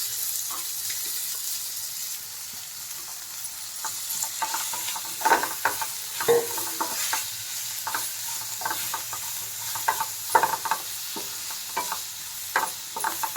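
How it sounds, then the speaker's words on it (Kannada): Bitter gourd frying in oil for a karela onion dish, a close steady sizzle broken by repeated scraping stirs with a spatula, spaced irregularly throughout. "ಹಾಕ್ಕೊಂಡ್ಮೇಲೆ ಒಂದು 2 ನಿಮಿಷ ಇದೇ ರೀತಿ ಎಣ್ಣೆಯಲ್ಲಿ ಫ್ರೈ ಮಾಡ್ಕೊಳ್ಳಿ"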